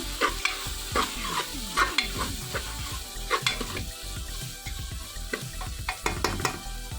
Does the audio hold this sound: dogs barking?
no